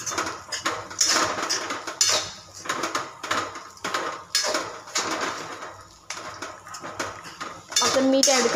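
Poha stirred in an oiled pan for Maharashtra-style kande pohe, a spoon scraping and clinking against the metal in repeated close, busy strokes, with a brief brighter clatter near the end.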